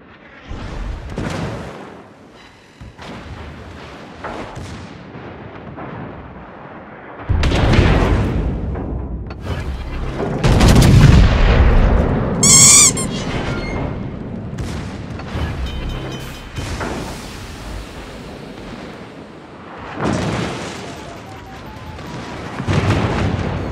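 Naval guns fire during a World of Warships battle, with heavy booms and rumbling blasts arriving in clusters over steady background noise, some shots distant and others close and loud.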